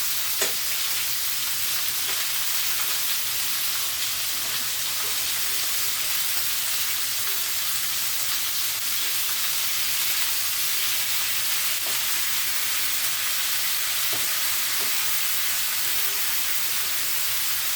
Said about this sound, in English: Now you want to try and sear all sides of your pork before you put it in your liquid.